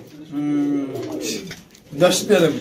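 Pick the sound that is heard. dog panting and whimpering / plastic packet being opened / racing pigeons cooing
racing pigeons cooing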